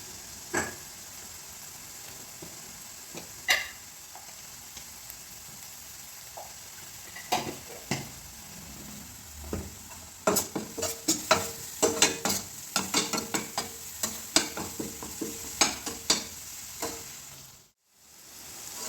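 Onions with salt and turmeric sauté in a pan as a soft continuous sizzle. Scattered clicks and scraping stirs grow busier midway, then stop with a brief silence near the end.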